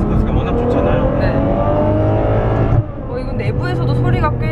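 Ferrari 812 Superfast with its naturally aspirated front engine revving loudly, a sustained high engine note that drops briefly near the end before climbing again, with people talking over it.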